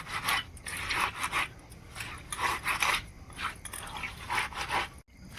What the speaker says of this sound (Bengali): ছোটো ছোটো মাছ তো একটু এরম করে নিজেতে একটু ঘষে ঘষে নেবেন